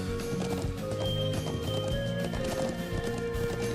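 Horse hooves clip-clop rapidly and continuously in the Trails of Cold Steel video game, a busy galloping rhythm over steady background game music, loud and close throughout, with no talking.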